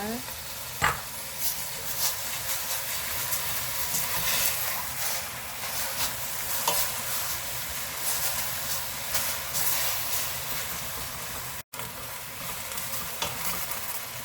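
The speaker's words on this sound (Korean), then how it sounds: "날로 미역을 넣어주고 다시 같이 볶아줍니다." Seaweed and cucumber stir-fried together in a pot for a Korean tofu seaweed soup, giving a steady sizzle with scraping stirs throughout and one brief dropout near the end.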